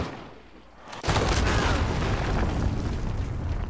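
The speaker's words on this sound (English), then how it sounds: "Enemy cruise missile incoming." A cruise missile strike in a first-person shooter game lands as a sudden loud blast about a second in, followed by a long, sustained roaring rumble with no speech.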